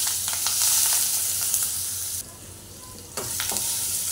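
Sliced onion dropped into hot oil tempered with mustard seeds, cumin, asafoetida and curry leaves, a loud close sizzle and crackle with stirring scrapes, briefly dipping before sizzling on strongly.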